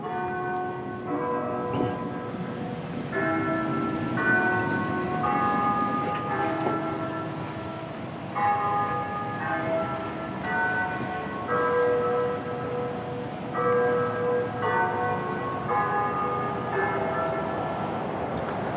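A town clock bell chimes the hour outdoors on a walk in Carbondale, a series of evenly spaced resonant strikes with lingering overtones over a busy street background.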